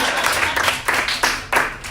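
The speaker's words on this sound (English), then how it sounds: "Applaud for me." An audience claps and applauds in short uneven bursts that swell and fade several times, fairly close and lively, with no voices over it.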